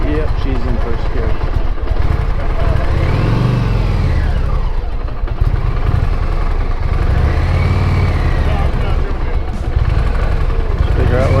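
An Indian Challenger motorcycle engine idles loudly, then revs up twice in rising and falling surges as it pulls away in first gear, staying close and dominant throughout.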